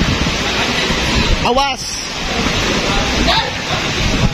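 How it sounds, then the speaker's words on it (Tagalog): Loud, broadband rushing of wind and rain fills the clip, with a brief shouted voice cutting through midway. "Ang lakas pa ng hangin."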